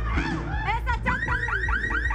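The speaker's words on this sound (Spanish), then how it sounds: "Quítenle la alarma." A car alarm wails nearby with rapid repeating swoops in a steady cycle, loud, with background noise and some voices mixed in.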